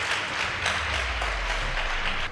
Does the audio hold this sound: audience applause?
yes